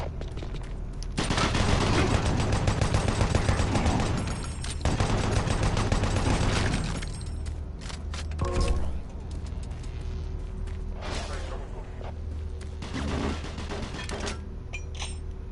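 Rocket launcher fire in Doom 3: Resurrection of Evil on PS4 comes as a string of loud, booming blasts and crackling impacts. The heavy bursts cluster early and then recur in sharper, scattered hits.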